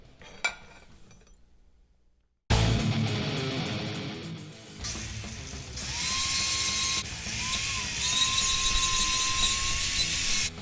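A high-pitched electric grinder working on a cut steel 90-degree pipe bend for a Y-pipe, with loud shrill whining bursts that start and stop, rising and falling in pitch, after a few faint metallic clinks.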